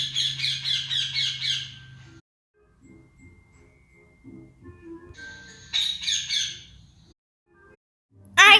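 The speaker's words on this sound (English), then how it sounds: "It was a parrot." A parrot squawking in harsh, raspy bursts: a long run of calls at the start, another cluster midway and a sharp loud squawk at the end, with quiet gaps between.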